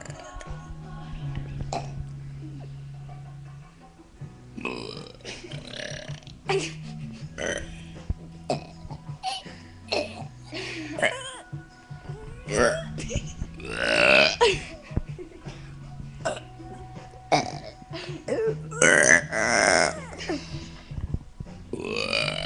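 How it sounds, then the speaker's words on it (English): Two people burping in turns during a burping contest, a long series of loud, drawn-out belches with short pauses and occasional voices between them. "Here is going to be a burping contest"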